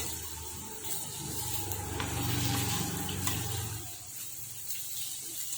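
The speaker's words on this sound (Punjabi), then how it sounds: "1 ਮਿੰਟ ਸਬਜ਼ੀ ਨੂੰ ਸੇਕ ਲਵਾ ਲਵਾਂਗੇ" Okra and potato sabzi sizzles steadily in a pan as it roasts in masala, a continuous close hiss with faint stirring scrapes and no voices.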